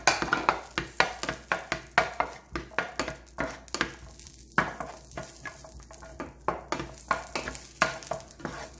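Celery stir-fried in butter in a pan for beef stew: sizzling under a steady run of sharp utensil scrapes and taps against the pan, roughly two per second and close by.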